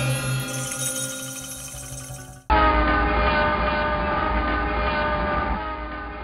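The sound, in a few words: train at Mailsi railway station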